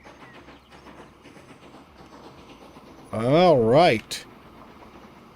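A train in the Transport Fever 2 railway game rolls along with low rumbling and clatter, then a loud wavering horn-like tone blares for about a second, while someone talks briefly.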